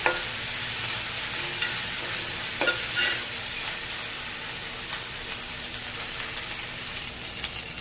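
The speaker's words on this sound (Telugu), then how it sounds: "అల్లం పేస్ట్ కూడా వేగాలి" Ginger paste frying in a pan for a curry, a steady close crackling sizzle with occasional stirring scrapes and clinks, no voices.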